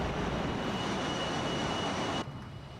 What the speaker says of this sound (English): Go around, speed brakes are coming in.